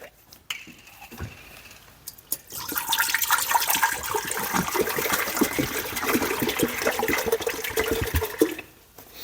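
Apple juice pours steadily into a big pot for several seconds, a continuous splashing gush after a few soft handling clicks, then stops.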